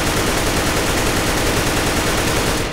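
An AK rifle fired in a continuous spray in the game CS:GO, a dense, loud, unbroken stream of rapid shots lasting almost three seconds.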